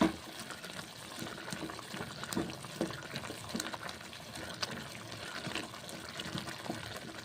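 Water is poured into a pot of salted radish and onion greens, making a continuous rushing, splashing wash of liquid at moderate loudness with small clatters mixed in.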